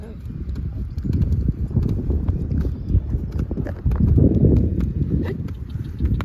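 A mare ridden by a teenage rider standing in the saddle clip-clops steadily in a quick, even rhythm, close and fairly loud, while a person talks over the hoofbeats.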